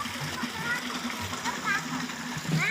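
Water is drawn and filled in a village in the morning, splashing and gurgling close by while people talk over it.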